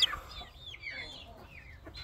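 A Cochin Silver Lancer rooster clucks nearby on a farm alongside young Brahma chicks: soft, quiet warbling clucks in an irregular run over faint background noise, with a sharp chirp at the start.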